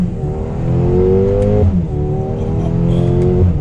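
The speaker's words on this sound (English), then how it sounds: "we'll go ahead and give it an acceleration here" A loud 2021 Mercedes-AMG GLA 35 engine and exhaust roar under hard acceleration, its pitch climbing steadily, dropping briefly at a paddle-shift gear change, then rising again, close and continuous.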